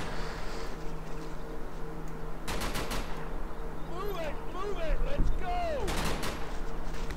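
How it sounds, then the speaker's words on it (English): Bursts of covering machine gun fire in a Combat Mission World War II battle, two loud rapid volleys separated by a pause, with whistling ricochet-like sounds between them over a constant low battlefield rumble. "Maybe puts that down some covering fire."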